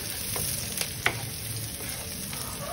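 Onions, chilies and spring onions sautéing in a pan with blood clams, giving a steady close sizzle with a few soft stirring clicks and scrapes, no speech.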